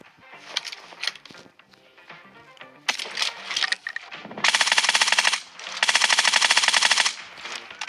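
Rapid automatic bursts of P90 fire in a mobile shooter game come in several long, loud rattling strings, with scattered single clicks and shots between them.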